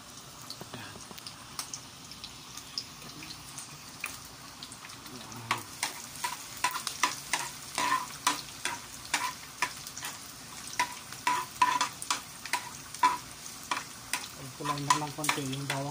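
Garlic sautéing in a pan for pancit canton, a steady oily sizzle with repeated sharp scraping and stirring clicks growing denser and louder through the second half, close up with no speech.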